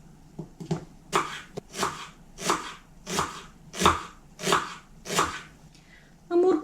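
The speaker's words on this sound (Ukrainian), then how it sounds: "Цибульку наріжу дрібненьким кубиком." A knife chops an onion into small cubes on a cutting board in a home kitchen, about eight crisp, evenly spaced strokes close up with no talking.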